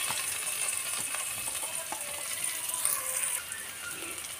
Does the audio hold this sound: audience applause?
no